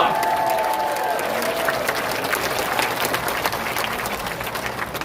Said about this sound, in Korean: 박수 한번 보내주십시오.